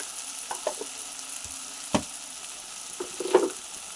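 Mutton curry with ginger garlic paste and turmeric being stirred in a pan, a steady close sizzle broken by a few scraping spoon clicks and clatters, no talking.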